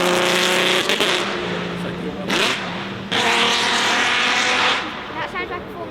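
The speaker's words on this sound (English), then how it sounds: "That sounds like a Formula Drift." Classic race cars at the Goodwood Festival of Speed roar past, engines revving hard in loud surges with a drift-style tire squeal, alternating with brief lulls.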